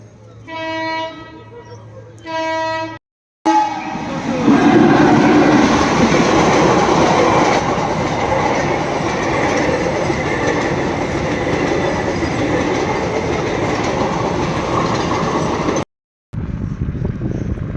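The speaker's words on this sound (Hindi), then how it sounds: "अब वेट तो करना पड़ेगा ट्रेन के जाने तक" A train rolls past a closed railway crossing on an Indian road, opening with two loud horn blasts. A long, steady rumble of wheels and cars follows close by, with rhythmic clatter running continuously until near the end.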